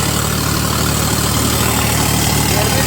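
A Swaraj 855 4x4 turbo tractor engine runs steadily at high revs in a farm field, a continuous broadband diesel drone with a low harmonic hum throughout, with no voices.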